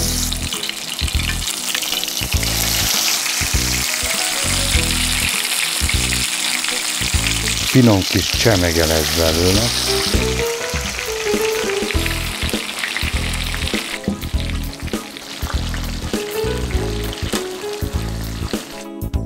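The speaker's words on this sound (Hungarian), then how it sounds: "és a forró olajba fogom" Batter-coated pigeon meat fries in hot oil, giving a loud, steady sizzle and crackle close by for the whole stretch, with a brief voice speaking over it.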